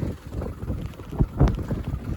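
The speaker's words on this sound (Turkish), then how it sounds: "Yağmur oldukça şiddetlendi." Heavy rain falling in dense fog outside a camper van parked on a mountain road: a steady loud wash of noise with low buffeting rumble and a few sharper thumps, no talking.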